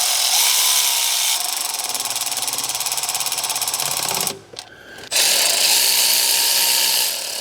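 A power tool whirs steadily as 14 mm 12-point cylinder head bolts are snugged down on a 2012 Honda Pilot engine, loud and close, with a brief pause partway through before the whir resumes.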